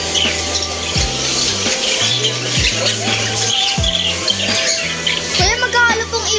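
Caged birds for sale at the Cartimar pet market in Pasay chirp and tweet in quick high bursts, mixed with steady tonal background sound and nearby voices of people talking.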